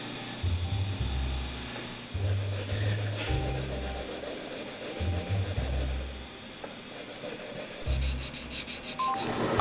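Repeated rubbing and rasping strokes of a drill bit deburring holes in a knife frame piece, close by, in short bursts with brief pauses between them.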